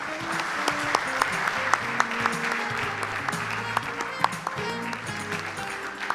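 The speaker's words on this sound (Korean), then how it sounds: "박수 부탁드립니다." Audience applause at a government strategy meeting, sustained steady clapping from a hall full of people, even and moderately loud, with faint voices under it.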